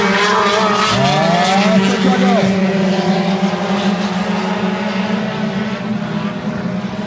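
Race cars lapping a circuit during a brand-and-driver championship in Minas Gerais: loud, sustained engine drone with shifting whines as cars pass, under excited commentator talk.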